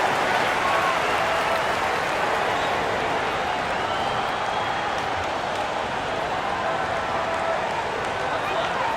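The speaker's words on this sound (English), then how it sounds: "Fans, please give a big round of applause for your Lynx squad" Arena crowd in a WNBA 2K26 basketball video game fills the space with a steady, dense wash of applause and cheering that holds at an even, loud level throughout.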